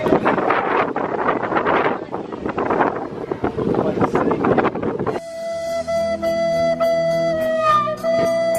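Strong gusty wind buffets the microphone outdoors, roaring and fluttering unevenly for about five seconds before abruptly giving way to a different, calmer scene with steady tonal background sounds.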